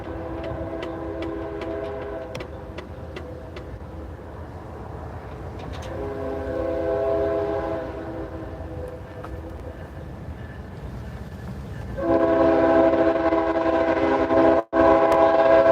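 A CSX or Norfolk Southern freight train passes trackside at Wauhatchie, its horn blaring in long, loud, steady blasts with a brief break, over the continuous rumble of rolling cars.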